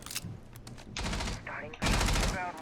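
Sustained bursts of automatic gunfire in the video game Rainbow Six Siege, fired through a wall in two long loud volleys after a softer opening, with a voice briefly heard between them.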